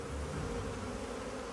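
A bee swarm forming a bee beard gives off a steady, dense buzzing drone that stays even and continuous throughout, close and moderately loud with no voices.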